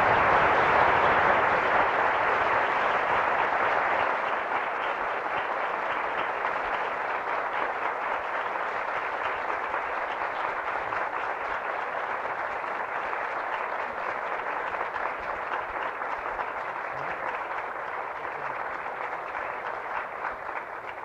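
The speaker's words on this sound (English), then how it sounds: "the applause indicates to you better than I can the reception that this audience has given your remarks" Sustained audience applause at an architecture lecture in Indiana, a dense even wash of many hands clapping that holds steady for about twenty seconds and eases slightly toward the end, with no voices over it.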